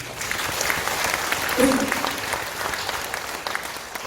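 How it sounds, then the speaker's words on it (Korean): Audience applause for two former mayors at a launch ceremony for the Yeongju Punggi Ginseng Expo, a continuous dense clapping that stays even and full across the whole stretch. "역대 시장님 두 분에게도 여러분 다시 한번 박수 한번 주십시오"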